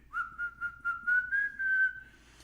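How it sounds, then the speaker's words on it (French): A person whistles a tune of short rising and repeated notes, soft and fairly close, with a low background rumble and no talking. "en train de siffloter."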